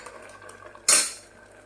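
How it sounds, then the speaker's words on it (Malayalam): Ground coconut and cumin paste goes into a simmering pot of Kerala nadan ozhichu curry with a single sudden splash and clatter, close and fairly loud, then a short fade over a low background hum. "നാളികേരവും ജീരകവും കൂടി അരച്ചത് ഇതിലേക്ക് ഒഴിച്ചു കൊടുക്കാം."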